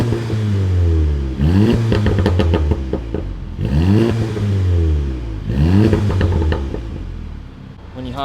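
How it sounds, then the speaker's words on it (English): A VW GTI with a Unitronic burble tune and stock catback exhaust revs three times in quick succession, each loud pull rising and dropping into crackling pops and burbles close by. "The burble tune sounds actually really good on the stock catback."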